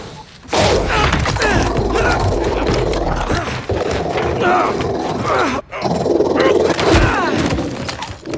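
A robot dog growls and snarls close up in Marvel's Spider-Man 2, loud and continuous amid heavy thumps and action noise, with a brief drop midway.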